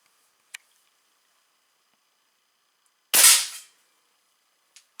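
A single sharp, loud crack from a Weihrauch HW 80 .22 (5.5 mm) air rifle, heard alone in a quiet setting with a couple of faint clicks before and after.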